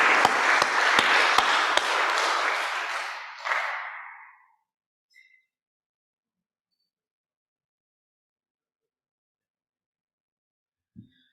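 A short burst of clapping from a few webinar participants, with several distinct close claps that die out within a few seconds, followed by near silence.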